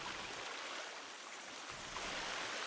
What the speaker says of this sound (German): Ich gehe hier beim Wasserfall.